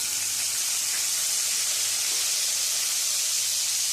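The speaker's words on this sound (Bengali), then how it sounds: "এবারে দিয়ে দিচ্ছি টমেটো কুচি।" Chopped tomato hitting hot oil with tempering spices in a pan, a steady bright hissing sizzle that stays even and close throughout, with no voices.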